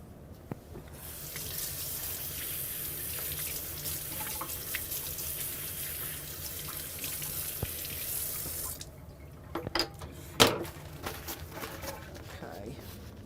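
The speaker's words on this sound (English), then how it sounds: "I'm just going to kind of rinse these off really quick." Tap water runs in a steady gush over vegetables being rinsed for beef bourguignon, close and continuous for about eight seconds before shutting off, followed by drips and clattering, with a voice talking over it.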